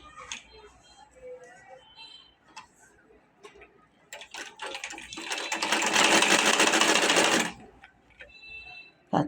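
A sewing machine stitches the shoulders of a shirt, running as a fast, loud, rhythmic clatter for a few seconds in the middle, with scattered clicks and handling noises before and after.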